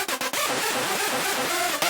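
Heavily distorted synth tone built from two Serum-style supercell samples run through stacked filters and distortion, a dense buzzing wall with a few sharp broadband hits at the start and end, loud and continuous with no talk.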